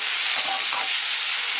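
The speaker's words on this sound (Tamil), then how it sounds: "வெங்காயத்தை மிக்ஸ் பண்ணி விட்டு தக்காளி ஆட் பண்ணிக்கலாம்." Shallots and tomato for sambar frying in a pan, a steady loud sizzle filling the short stretch with a faint stirring scrape, no voices.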